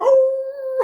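A voice imitates a lone wolf howl on a fantasy football talk show: one loud, close, sustained tone lasting under a second that rises briefly at the end.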